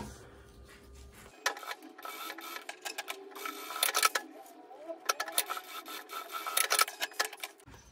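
A sewing machine stitches bias binding onto fabric for a men's lunch bag, running in short, uneven bursts of rapid mechanical whirring and clatter with brief pauses between, close and fairly loud.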